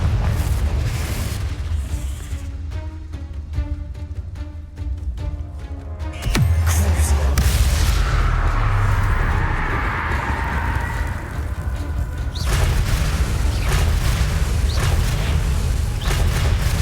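Confringo blasting curse from Hogwarts Legacy going off: a sudden heavy boom midway breaks through a busy rumbling background, followed by a roaring, sustained blast wash and further rumbles, loud and close.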